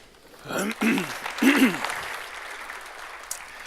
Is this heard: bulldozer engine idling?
no